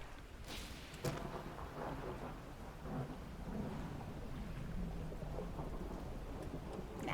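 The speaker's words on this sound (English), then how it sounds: "did the Mackerel Man summon the storm?" A thunderstorm in the fishing video game DREDGE gives a low, rolling rumble of thunder over steady rain, with a sharper crack near the start.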